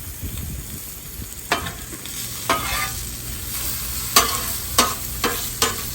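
Eight sausages sizzle on a Blackstone outdoor griddle, a steady close frying hiss punctuated by sharp scraping clicks of a spatula stirring every second or so, with no talking.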